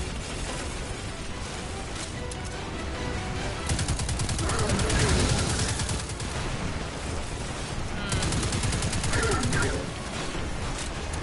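Rapid bursts of hand cannon gunfire in Destiny, loud repeated shots with heavy booms, mixed with game effects and occasional speech.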